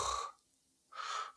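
A person imitates light snoring, as if dozing, with two breathy snorts separated by a brief pause, close and clear with no other talk.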